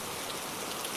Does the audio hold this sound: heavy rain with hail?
yes